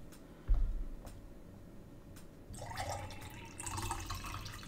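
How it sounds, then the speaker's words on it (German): Chilled lemon water from the fridge pours into a glass. A single knock comes first, then a steady liquid stream fills the glass for the last couple of seconds, quiet and close. "Kurz hier mein Zitronenwasser einschenken."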